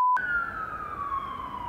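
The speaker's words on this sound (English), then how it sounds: "Hold for ambulance." An ambulance siren wails loud and steady nearby, its pitch sliding slowly down as the vehicle passes, with no voices over it.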